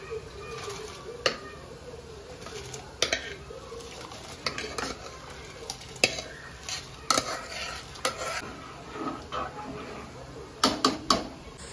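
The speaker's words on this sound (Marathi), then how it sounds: "इकडं आता कांदा मस्तपैकी फ्राय होत आला आहे" Onion frying in a pan in a home kitchen, a soft steady sizzle broken by repeated sharp scrapes and clacks of a spoon stirring against the metal.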